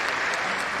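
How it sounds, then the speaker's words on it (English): A graduation crowd of the Class of 2022 at a performing and fine arts school applauds in a steady, dense wash of clapping that fills the whole short stretch. "Give yourself another round of applause"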